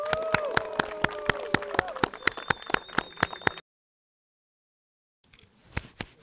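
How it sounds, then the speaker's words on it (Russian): Rhythmic group clapping marks the closing of a regional carp fishing championship: a dozen or so sharp, evenly spaced claps, then a pause and a few more scattered claps, with distant voices. "Аплодисменты!"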